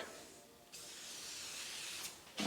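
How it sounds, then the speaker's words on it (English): A quiet, continuous aerosol spray hiss of prep spray onto a baking tray lasting a couple of seconds, with brief extra bursts near the end, in a bakery. "And just spray up our tray."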